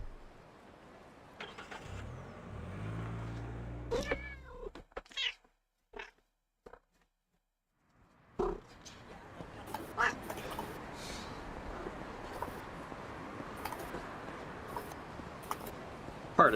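A cat meowing repeatedly close by, its chatty calls mixed with noise from a street-driving video game, including a car engine, before a brief quiet gap and renewed game sounds.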